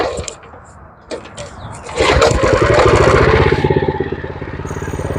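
A minibike fitted with a 212 Predator engine fires up and revs, a loud close rapid pulsing engine note swelling after a quieter start, then settling into a steady running rumble.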